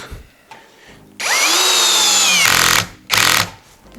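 A brushless cordless drill (Worcraft CHD-S20LiBAB) with a 22 mm bit whines up to a loud steady drone for over a second drilling into an oak board, stops, then gives a shorter burst; faint clicks before and after.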